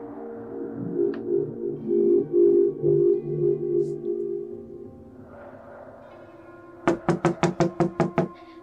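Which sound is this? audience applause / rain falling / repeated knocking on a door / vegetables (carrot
repeated knocking on a door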